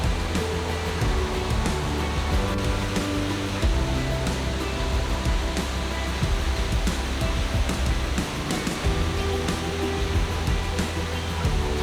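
Continuous heavy roar of falling water from a 200-foot waterfall at Dunning Springs, loud, steady and close, a broad rushing wash with no voices over it.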